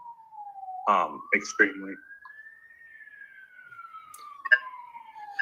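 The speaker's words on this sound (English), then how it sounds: "sorry for the siren" Police siren wailing outside, a faint, slowly rising and falling tone sweeping through in the background while a person talks briefly over it.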